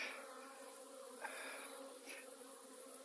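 Honey bees buzz at a hive on a midwinter cleansing flight in late January, a steady close drone of many wings heard with no talking.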